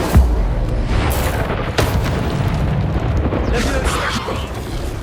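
A fire spell blast in a wizarding video game: a sharp booming burst at the start followed by crackling, rumbling bursts that trail off, with a voice calling out over it.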